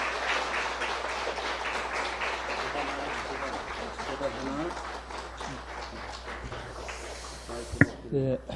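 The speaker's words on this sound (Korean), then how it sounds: "나오실 때 한번 박수로 맞이해 주세요." A church congregation at an evening service applauds to welcome a speaker, a dense, steady clapping that carries on for several seconds and fades out. A voice speaks over it.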